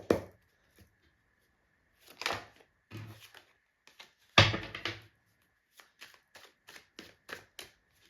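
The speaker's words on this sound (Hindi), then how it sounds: "जब तक मैं शफल कर रही हूँ" Tarot cards shuffled by hand, a series of short papery riffles and soft taps in irregular bursts, close and fairly quiet, with brief pauses between.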